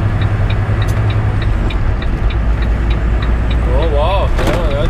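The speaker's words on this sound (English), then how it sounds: "there's a truck going by." A truck drives past on a highway near an inspection station, a loud, constant rumble of road and engine noise with faint rhythmic ticking and a few brief whistling chirps near the end.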